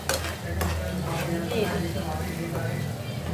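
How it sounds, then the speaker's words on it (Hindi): Hot tadka tempering poured into a pot of dal for a dal palak dish sizzles and crackles steadily in a home kitchen while someone talks over it. "अपना ये छौंक एकदम रेडी है तो डाल देते हैं इसके दाल के अंदर।"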